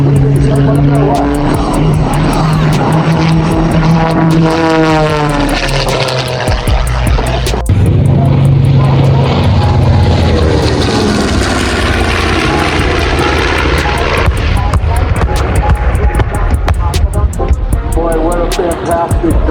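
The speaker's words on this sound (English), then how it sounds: "That's such a beautiful plane." A propeller airplane at the Quad City Air Show drones loudly overhead, its engine pitch sweeping as it passes, with an announcer's voice over the top.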